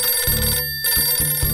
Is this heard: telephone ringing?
yes